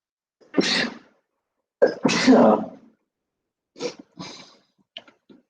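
Someone sneezes loudly during an online class, two forceful bursts close together followed by a few smaller sniffles and short sounds trailing off.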